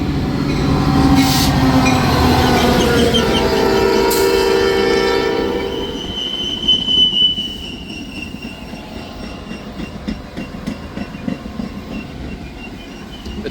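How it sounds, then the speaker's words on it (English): A Metra commuter train near Chicago blows a loud, sustained horn for several seconds as it passes, then fades into rolling wheel clatter and rumble of the cars going by. "The train blew its horn because someone was running across way too late."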